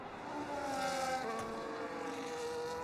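Haas Formula One car engine in a racing video game, on the Australian Grand Prix circuit, wailing at high revs with rising and falling tones across about three seconds, loud and steady with no talk.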